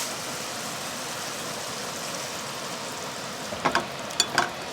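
Stir fry rice cooking in a pan inside a camper van, producing a steady soft sizzle with a few sharp metallic taps and scrapes near the end, heard alone.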